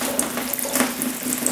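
A tap runs steadily into a sink while soapy hands are rinsed after painting woodwork, a loud, close, continuous water rush with small splashy fluctuations.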